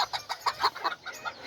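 A little white rooster and hens cluck in a quick, uneven series of short close calls, several bursts in a row with no voices over them.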